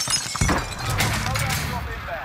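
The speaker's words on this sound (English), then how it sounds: "I hear a glass break." Glass shatters in Call of Duty Warzone, a sharp bright crash followed by tinkling debris, heard amid game noise with players talking over it.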